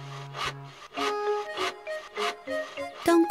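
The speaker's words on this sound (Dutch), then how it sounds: "Hij zaagt houtblokken in planken." Cartoon sawing as wooden logs are cut into planks, a run of about six rough rasping strokes in steady back-and-forth rhythm, fairly close and with nothing else over it.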